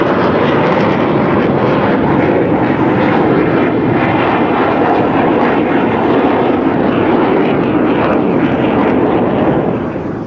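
A fighter jet with a sawtooth wing leading edge roars overhead at an air show, a dense, loud, steady engine blast lasting throughout and easing slightly at the end.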